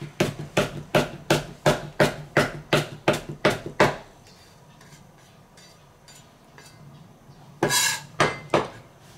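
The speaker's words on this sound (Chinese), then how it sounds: "生姜给它切成丝" A kitchen knife chops ginger into fine shreds on a cutting board, with about a dozen sharp, evenly spaced knocks for four seconds, a pause, then another quick burst of chops.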